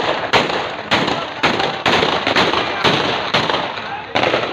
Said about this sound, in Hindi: हवाई फायरिंग से इलाके में शदीद खौफ व हरास फैल गया